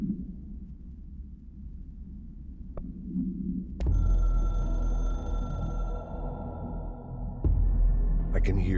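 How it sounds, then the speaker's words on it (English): A hotline telephone in the video game Control rings with a bright repeating tone over a low rumbling background, starting a few seconds in and continuing to the end. "I can hear the hotline ringing in my dreams, constantly ringing."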